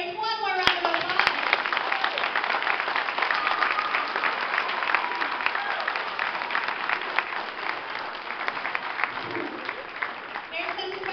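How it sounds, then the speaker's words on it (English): An audience at a kindergarten performance claps loudly and continuously, a thick patter of many hands with children's voices and chatter mixed in. "Let's give our kindergartners one more round of applause."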